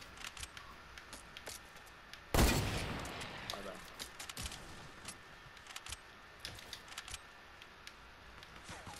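A hunter rifle in a video game fires one sharp, loud shot followed by quieter clicks and small bursts, with players talking over the game audio.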